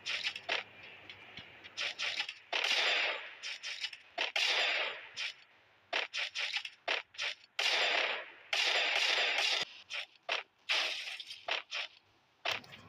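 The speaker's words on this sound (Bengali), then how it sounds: "উডপিকার দিয়ে যাই মারি তাই হেডশট লাগে" Woodpecker rifle shots in Free Fire ring out in sharp, loud bursts, some single and some in quick strings, with brief quiet gaps between volleys and no voices.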